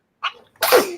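Two close sneezes, the first a short high burst and the second a louder, fuller explosive one about half a second later, with no talk over them.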